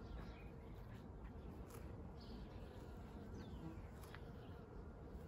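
Bees buzz faintly around pink flowering plants, a soft steady drone with a few passing insects flying near, over quiet outdoor ambience.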